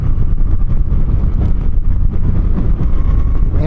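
A 2025 Suzuki Boulevard V-twin cruiser motorcycle rides in third gear with a steady, deep engine drone mixed with heavy wind rush, loud and continuous throughout.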